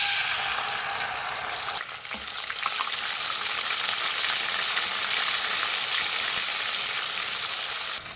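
Ginger-garlic paste hits a pan of oil with whole black cardamom, cloves and black peppercorns, setting off a loud, dense, spattering sizzle that swells and holds steady for several seconds, with no voices.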